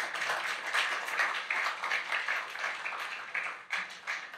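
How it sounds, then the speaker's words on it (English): An audience at a photography talk claps together in a steady, dense patter of applause lasting several seconds, fairly close and without voices, fading slightly near the end. "one big round of applause for Mr."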